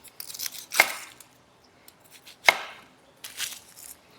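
A knife cuts the tips off a sweet onion in three sharp, close chops about a second apart, with no talking.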